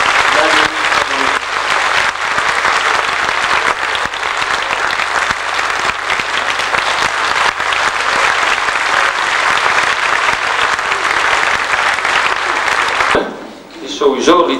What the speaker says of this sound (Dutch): Applaus voor Nathalie, Lenny en Monique.